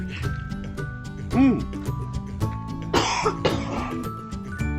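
A few harsh coughs and throat-clearing bursts break up a man's ongoing speech, close to the mic.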